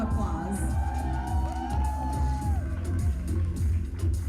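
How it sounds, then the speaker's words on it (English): An audience at a Miss Bharat California pageant cheers and whoops for contestants after a gown round, with crowd noise, shouts and a lingering tonal sound underneath, moderately loud and continuous. "Please give these ladies a huge round of applause."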